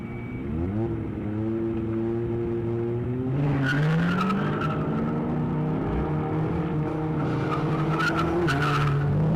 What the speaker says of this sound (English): when you're doing your burnouts, please wait for both cars to have taken off from the line